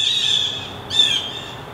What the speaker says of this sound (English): The birds are being really annoying today.